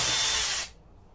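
A handheld power tool whirs steadily for just over half a second while backing out a door handle bolt on a Peugeot J9 camper van being restored, then cuts off abruptly into near silence.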